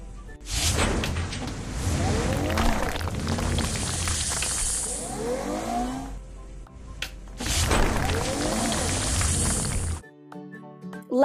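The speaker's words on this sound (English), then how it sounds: "Let's prepare a crushed stone pad for the railroad." Crushed stone pours and spreads for a railroad pad in a mobile construction game, a dense, loud rushing rattle that runs for several seconds, eases briefly and returns before cutting to a short musical tone.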